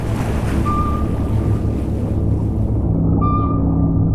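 A submarine sound effect plays over a steady roar of ocean waves and wind, with short electronic tones ringing out twice above the wash. No talking.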